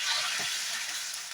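Water pours into a pan of potatoes and spice paste frying for a Bengali duck egg curry, a steady broadband hiss and gush with a brief sizzle, close and continuous with no talk.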